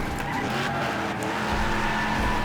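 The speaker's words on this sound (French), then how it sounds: "il y a un bon son moteur de V8 là" V8 car engine roaring in the racing video game Next Car Game, a loud continuous growl with tire squeal and skidding mixed in.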